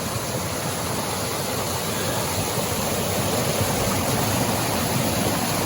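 Water rushing down a small icy waterfall in winter, a steady broadband roar that is constant and close, with no voices.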